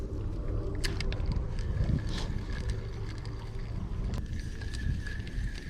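Outdoor ambience from a kayak on a river while fishing with a spinning lure: steady wind rumble on the microphone with faint water lapping and small splashes, continuous and close, with no talk.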